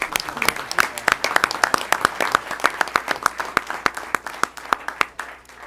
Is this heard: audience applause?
yes